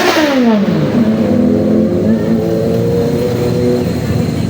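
A Suzuki Raider underbone motorcycle engine revs up and holds a loud, rising drone close by, with a rough mechanical rumble throughout.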